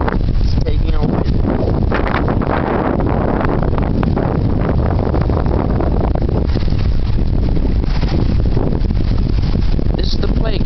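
Strong wind roaring steadily against the microphone aboard a Catalina 22 sailboat on a lake, loud and continuous throughout, with faint boat and water sounds underneath.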